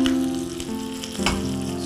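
A tempering for summer curd rice sizzles briskly in hot oil. The frying hiss is close and steady over a brief moment, with no voices.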